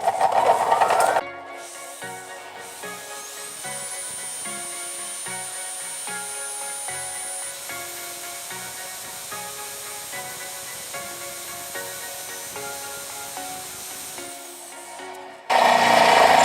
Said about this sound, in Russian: сверлить я, значит, буду в своем самодельном токарном станочке